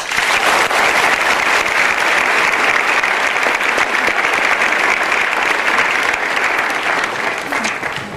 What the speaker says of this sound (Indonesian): Mari kita sambut dengan tepuk tangan yang meriah, Abdul dan Anissa.